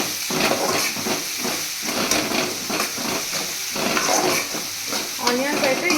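Browned onions sizzle and hiss in hot oil with turmeric and ginger garlic paste for a veg dish, steady loud frying with repeated stirring scrapes throughout.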